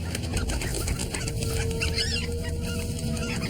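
A chicken clucks and squawks close by on an outdoor reality-show island, its calls mixed with honking fowl noises and rough background ambience.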